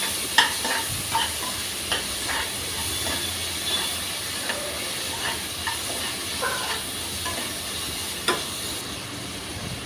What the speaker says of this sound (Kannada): ಕಟ್ ಮಾಡಿ ಇಟ್ಕೊಂಡ ಈರುಳ್ಳಿ ಮತ್ತು ಟೊಮೆಟೊವನ್ನು ಕೂಡ ಹಾಕ್ತಾಯಿದ್ದೀನಿ. ಇದನ್ನು ಕೂಡ ಲೋ ಫ್ಲೇಮಲ್ಲಿ ಚೆನ್ನಾಗಿ ಫ್ರೈ ಮಾಡೋಣ.